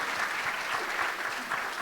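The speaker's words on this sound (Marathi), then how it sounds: "देवाच्या गौरवासाठी टाळ्या वाजवूयात." A church congregation at a Sunday service in Pune claps together in praise, a brief, even burst of many hands heard at moderate distance, with faint voices underneath.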